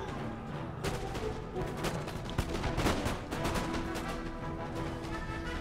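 A massed musket volley in Empire Total War, a ragged crackle of many shots firing close together in rapid bursts, loud and dense, with scattered reports continuing across the battlefield.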